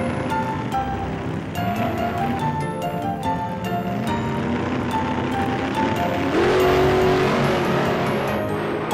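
Cartoon race cars from the TuTiTu children's show drive by with engine revving and tire squeals, a steady loud mix of motor sounds with a rising whine near the end, no voices.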